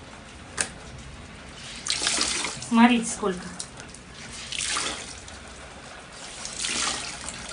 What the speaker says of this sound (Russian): И она льется и льется сверху, с балкона.